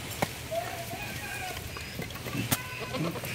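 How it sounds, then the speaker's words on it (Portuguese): Goats being penned at a farm give a few short, moderate bleats over steady rural background noise while a person talks nearby. "O último a entrar é o bode."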